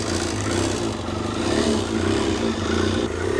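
An old-school, high-revving carburetted Kawasaki ZXR250 motorcycle engine runs close, its raspy note rising and falling in short revs over a steady mechanical clatter.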